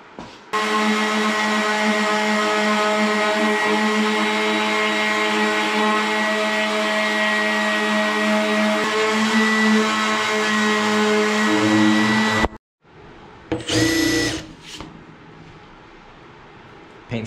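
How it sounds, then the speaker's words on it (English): A power tool cutting aluminum while modifying a food truck hotdog cart: a loud, steady, high whining drone held for about twelve seconds, then a sudden stop followed by a brief shorter burst. "let's get some more aluminum cut"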